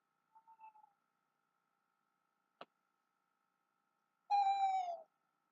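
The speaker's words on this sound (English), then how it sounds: "You might hear some owls." An owl hoots twice in an ambience app recording, first a soft short hoot, then after a sharp click a louder, longer hoot, with silence between.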